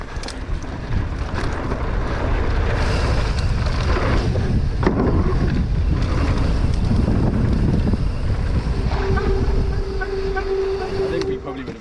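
Steady wind buffeting a microphone outdoors on a breezy day, a loud continuous rumble and roar throughout with gusting swells, a faint tonal hum near the end.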